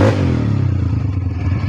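An ATV engine with a rough idle that is slow to return, revved once and then settling, a loud close mechanical drone with a strong low hum and a rattling texture throughout.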